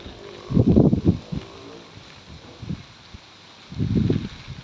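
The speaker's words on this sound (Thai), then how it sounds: "ลมแรงด้วย" Strong wind sweeps across an open field on a cold day, buffeting the microphone in two loud, rumbling gusts with a weaker surge between them and no voices.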